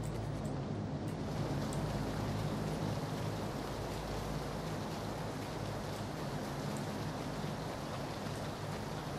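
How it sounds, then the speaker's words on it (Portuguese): Steady, continuous rainfall in the video game Battlegrounds, with a soft constant patter and low background rumble, unchanging throughout. "A única parte boa da chuva realmente é o barulho, né?"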